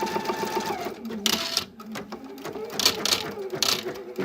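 An embroidery machine fitted with a ribbon attachment starts up with a busy mechanical whir and clicking as the unit lowers, while a person talks over it.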